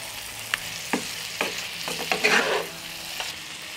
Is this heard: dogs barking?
no